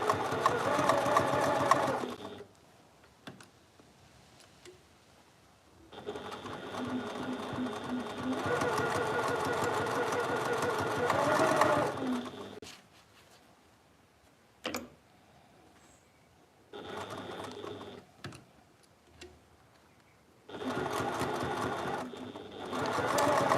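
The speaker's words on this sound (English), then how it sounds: "we now just stitch all the way along" A domestic sewing machine stitches along a fabric project bag in several steady bursts, each running a few seconds, separated by pauses with quiet handling noise and one brief sharp knock.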